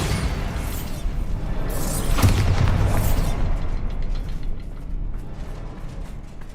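A Bombarda blast spell in the Hogwarts Legacy game, heard as a dense, continuous rumbling roar with a brief brighter crackling burst in the middle, loud and sustained throughout.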